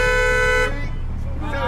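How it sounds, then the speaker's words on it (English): A taxi driver's car horn blares in one sustained loud honk that cuts off after about two-thirds of a second, followed by street noise and a voice nearby. "The taxi driver's natural reaction is to honk his horn to express his discomfort."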